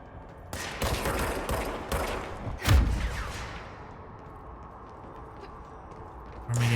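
Enemy gunfire in the video game Control, a few bursts of rapid shots followed by a sharp, heavier impact, then fading reverberation.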